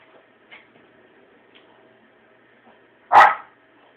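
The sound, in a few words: dog barking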